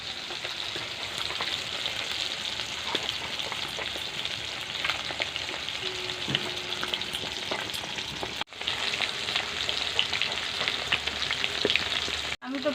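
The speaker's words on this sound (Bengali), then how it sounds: "এদিকে আমি যে মাছ ভাজাটা বসিয়েছিলাম" Rohu fish frying in a pan of oil, a steady close sizzle with faint crackles and pops running throughout, briefly cutting out twice near the end; no one speaks.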